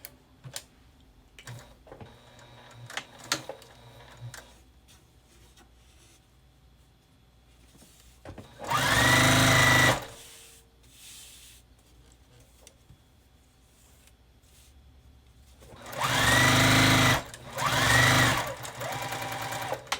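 A sewing machine stitches quilt pieces together in two loud, steady whirring runs of about two seconds each, separated by quieter handling clicks and snips at close range.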